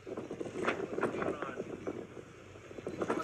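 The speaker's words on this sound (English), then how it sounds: "Man, really windy." Wind gusts buffet the microphone with a low rumbling roar, while a voice talks intermittently over the blustery noise.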